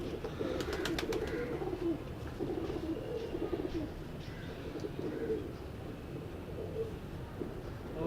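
Pigeons coo softly and steadily through the recording at a pigeon fancier's gathering in Wassan Pura, with a few brief chirps near the start over a dense, constant background hum.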